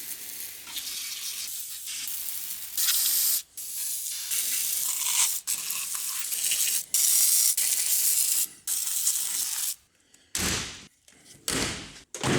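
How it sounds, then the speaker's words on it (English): Aerosol lubricant sprayed in repeated bursts onto the door latches of a 1977 Pontiac Grand Safari wagon, close and hissing, with short pauses and a door slamming shut near the end. "So let's lube up all the latches real quick."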